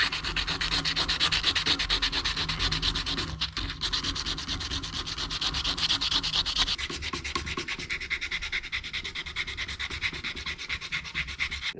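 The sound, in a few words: sanding Honda Monkey rear shock with 120 grit sandpaper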